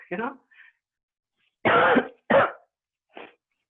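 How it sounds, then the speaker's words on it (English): A few short, harsh coughs and throat-clearing bursts, close and separated by silence. "sorry about my cough"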